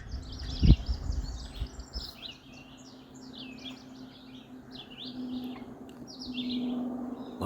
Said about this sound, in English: A lot of happy birds with this view.